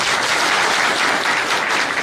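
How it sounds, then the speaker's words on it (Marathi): Crowd at a farmers' rally breaking into sustained applause for Laxmikant Bhau, dense and even clapping from many hands all the way through, with no voices over it. "लक्ष्मीकांत भाऊसाठी टाळ्या वाजवा एकदा"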